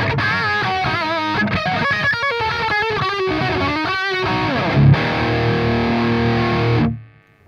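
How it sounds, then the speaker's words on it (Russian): An AMT StoneHead SH 50 guitar amp on its high-gain Lead-2 channel plays heavily distorted electric guitar: a loud, saturated riff with choppy chugging notes, then a sustained ringing chord that cuts off abruptly. "Lead-2 – хай-гейновый канал с максимальной степенью искажения по сравнению с тремя остальными."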